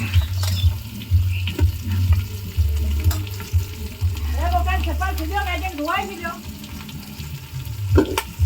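Chopped onions frying in a pan for chili chicken, a close crackling sizzle with stirring clatter and scraping, joined by a brief higher bubbling hiss partway through.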